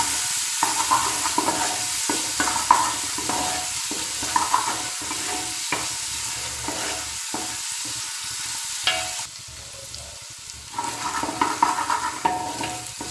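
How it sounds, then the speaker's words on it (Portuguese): Onion and garlic browning in a pan while being stirred, a steady close sizzle broken by repeated scraping stirs, with a brief quieter stretch before the frying noise swells again; no talking. "Vamos deixar dourar bem, tá? A cebola e o alho."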